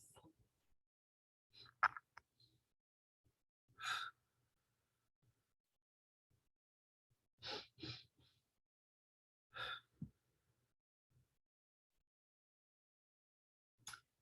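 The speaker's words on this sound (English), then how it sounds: "you make bunny hands in front of your chest and you take quick sniffs in the air like a bunny before breathing out" Quick, sharp nasal sniffs come in short clusters followed by soft exhalations, a child's bunny-breathing exercise heard close and quiet, with long silent gaps between the breathy bursts.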